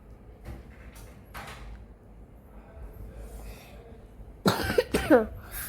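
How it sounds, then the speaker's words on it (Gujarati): A person with a bad cough lets out several heavy, close coughs, a couple of quieter ones early on, then a harsh double burst toward the end. "બહુ ઉધરસ ભારી થઈ ગઈ"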